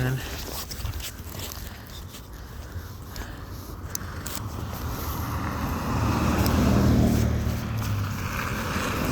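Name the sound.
car passing by on snowy road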